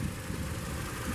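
Steady engine hum from a 2014 Toyota Corolla S paired with a CVT, running evenly at idle with a constant low drone and no voices.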